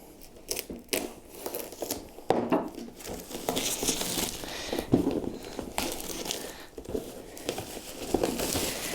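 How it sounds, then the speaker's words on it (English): Plastic wrapping is torn and crinkled off a Warhammer 40K Forgebane model, giving close, irregular crackling, rustling and snipping sounds that continue steadily throughout with no one talking. "Okay, let's unwrap this."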